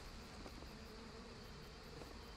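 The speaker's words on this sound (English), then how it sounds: "We just need to find a way to get past the bees." Bees buzz faintly and continuously in the Trine 2 video game, a soft, steady insect drone with no other sounds over it.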